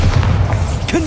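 A Bombarda blasting spell from Hogwarts Legacy explodes in a short, loud, low boom with a dull thud that fills the brief moment.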